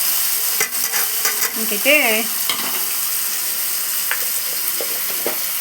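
Two chopped tomatoes frying and softening in a pan for a boiled-egg curry give an even sizzle with occasional stirring clicks, and a short word is spoken early on.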